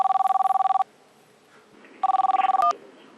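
A telephone rings for an incoming call, two bursts of rapid electronic trilling separated by a pause, loud and clear, with a brief click as it is answered.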